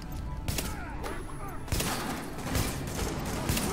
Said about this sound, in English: I'm gonna use our sniper here